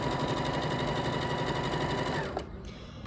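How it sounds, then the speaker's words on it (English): Sewing machine running a rolled hem on silky fabric with a rolled hemming foot: a fast, steady, close mechanical buzz with rapid stitch ticks for about two seconds, then stopping abruptly into a quiet room. "I sew that section."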